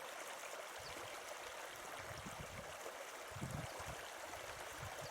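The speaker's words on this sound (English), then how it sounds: "It is a human dug channel for moving water from one place to another." Water flowing along a man-made mine leat channel on Dartmoor, a continuous soft rushing with bubbling swells, faint and steady, no voices.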